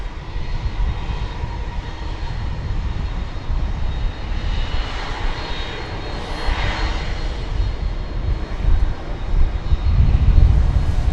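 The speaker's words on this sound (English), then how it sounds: "it's a McDonnell Douglas MD-11" A McDonnell Douglas MD-11 tri-jet at DFW Airport, its engines giving a steady broad roar with a low rumble that swells slightly toward the end, heard at a distance and continuous throughout.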